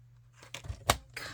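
Scissors cut paper for a handmade card: a few quiet, close snips in an uneven rhythm, with soft rustling between them and no talking.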